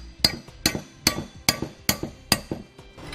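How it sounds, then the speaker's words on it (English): Steel hammer taps a Carr LD custom-fit side step bracket into place on a 2009 Dodge, six sharp metallic strikes at a steady, roughly half-second rhythm, close and clear with no talking. "You may need a hammer to help tap it in place."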